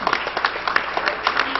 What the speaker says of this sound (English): Somebody ought to give them the hand clap of praise this morning, church.